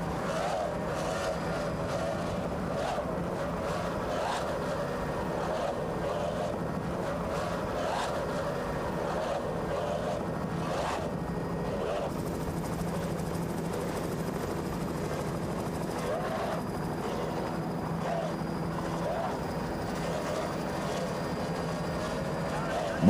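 Roaring racing powerboat engines, 32.5 EFIs, at the 1994 South Padre Grand Prix: a steady, continuous drone that holds at an even loudness throughout, with a commentator talking over it.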